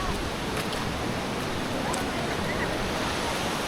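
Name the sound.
flooded river water rushing during heavy Konkan rain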